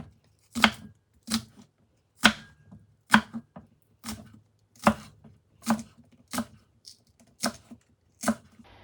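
A knife slices spring onions on a chopping board in about a dozen crisp, evenly spaced cuts, each one a sharp knock, close and clear with no talking.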